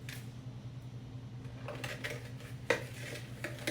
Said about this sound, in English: So I'm going to stir and say, hey, could you help me stir?